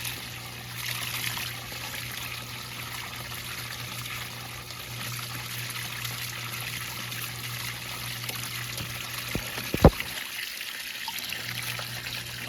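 An ANBULL submersible pond fountain pump runs and throws up a plume of water, giving a steady close trickle and splash over a low constant hum, with a brief knock near the end.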